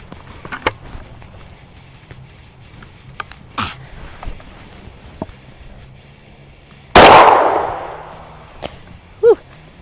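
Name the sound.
Berika Arms SS410 .410 single shot shotgun firing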